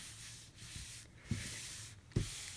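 Hands smooth and rub across quilt fabric and batting in soft, quiet strokes, with a few slightly firmer brushes standing out against a faint background hiss.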